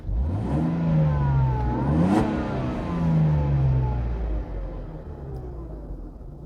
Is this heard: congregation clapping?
no